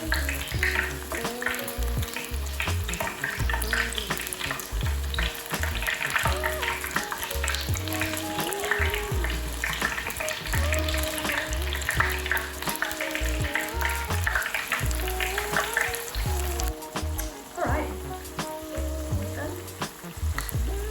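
Vegan Indonesian corn fritters fry in hot oil with a dense, steady sizzle and crackle that runs through the whole stretch, close and fairly loud, along with low background hum and tones.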